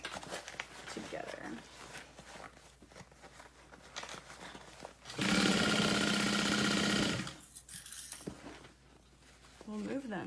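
Sewing machine stitching the bottom seam of an all-vinyl tote bag at a short stitch length, a steady loud whirring run of about two seconds standing out between stretches of quieter handling noise and talk.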